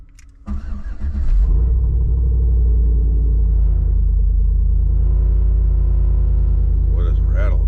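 A truck engine cranks and fires up, then settles into a loud, steady rumbling idle heard from inside the cab, with a faint rattle near the end.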